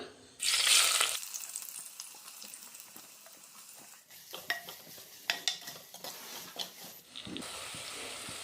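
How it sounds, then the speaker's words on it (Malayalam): Chopped onion dropped into hot oil in a pan for a homestyle fish curry, bursting into a loud sizzle at first and then settling into a softer hiss with clinks and scrapes of stirring. "ഇതിലേക്ക് നമ്മൾ അരിഞ്ഞു വെച്ച സവോള ഇട്ട് കൊടുക്കാം"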